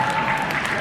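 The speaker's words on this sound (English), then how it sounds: "Round of applause, please, for the man." Applause breaks out for a man at a business keynote, a steady dense patter of clapping filling the short moment at even loudness with no voices on top.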